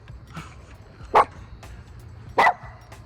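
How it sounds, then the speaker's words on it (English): A dog gives two sharp, loud barks close to the listener, about a second apart, over quiet background noise. "Hey, don't bark in my ear."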